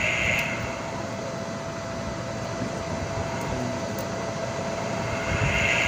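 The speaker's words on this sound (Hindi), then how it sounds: "ये सीरियस बोर्ड पर हमारी मोटर चल रही है।" A washing machine motor runs on a test board, giving a steady, even hum with a constant tone that stays close and unchanging throughout, with no voices.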